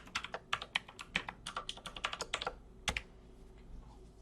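Rapid clicking keystrokes on a computer keyboard as a domain password is entered, a quick uneven burst of taps ending with a heavier key press, then quiet.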